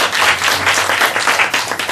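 Loud, dense applause from a church congregation, steady clapping filling the whole stretch without pause.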